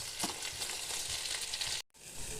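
Tomatoes sizzle steadily in a frying pan while being cooked for mint peanut chutney, a dense, close crackle that cuts out briefly near the end before resuming more softly.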